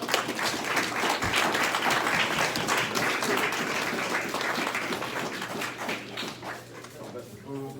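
Audience applause at a Feast of Dedication celebration, dense steady clapping lasting throughout with cheering and voices mixed in, loud and close, fading slightly near the end.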